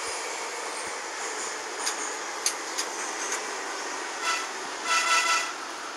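An 81-717 metro train pulling into Molodezhnaya station in Minsk, a loud steady interior rumble with rail clatter, a few sharp clicks, and a brief squeal of wheels as it slows, heard from on board with no talking.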